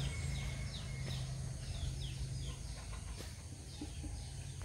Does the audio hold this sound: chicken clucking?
yes